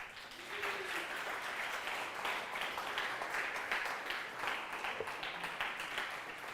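A church congregation applauds during a sermon, steady dense clapping from many hands that fills the room at moderate distance and holds evenly throughout.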